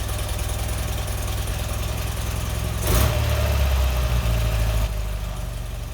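A BMW R100 motorcycle with Mikuni carburetors idles steadily nearby, a low, even engine throb that briefly swells and thickens around the midpoint before settling back, with no talk.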